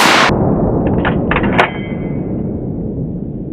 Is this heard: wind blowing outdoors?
no